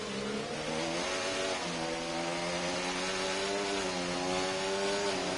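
Formula 1 style race car engine in a sim racing video game at the Australia round, a loud, steady high-pitched engine scream with gear shifts and slight pitch changes, heard alone.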